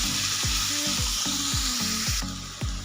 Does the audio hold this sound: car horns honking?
no